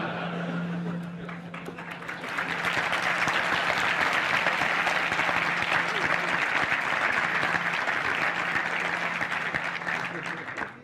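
Loud, sustained applause from a large conference audience, dense clapping that swells after a couple of seconds and holds steady with crowd noise, some voices mixed underneath, before cutting off.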